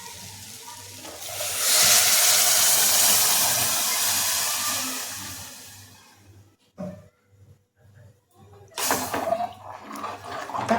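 Water is poured into a hot pan of fried whole masoor lentils, bursting into a loud rushing sizzle that fades over several seconds, followed by a few clinks and a renewed hiss.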